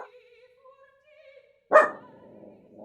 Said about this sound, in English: He barks at everybody.